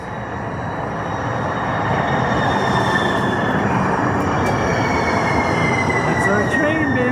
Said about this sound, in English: That's our train, babe.